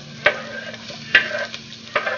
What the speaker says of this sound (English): I'm going to take my same skillet and put 2 tablespoons of vegetable oil in there. And I'm going to add the onion.